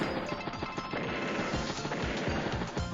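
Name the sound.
anti-tank unit attacking a battle copter, Advance Wars: Days of Ruin video game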